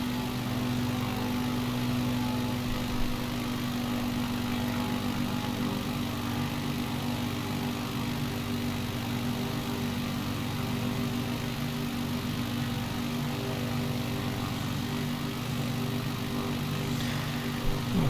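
Small propeller aircraft engine droning at steady RPM in Microsoft Flight Simulator 2020 on a bush trip over Yosemite, a constant loud hum that stays even throughout with no voices.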